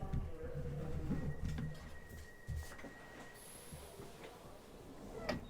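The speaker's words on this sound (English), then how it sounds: "Did he go to a train station to get those sounds?" Ambient station noise with a steady faint hum, scattered clanks and a brief high tone, some distant bird-like chirps; no clear talking.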